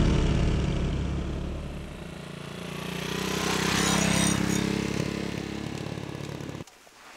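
A motorcycle rides through a mountain mossy forest in Benguet, its engine drone and wind rush swelling and easing continuously, close and fairly loud, before cutting off abruptly.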